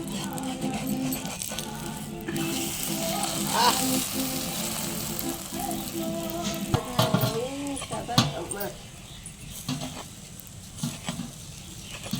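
An omelette with salt, chili and onion sizzles steadily in a hot pan, a constant close frying hiss with a few scrapes and clinks over about twelve seconds.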